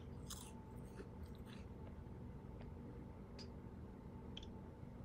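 Cereal being eaten in a Roblox Bloxburg family roleplay, a few quiet crunchy bites and chewing clicks spread over a soft constant background hiss, with no talk.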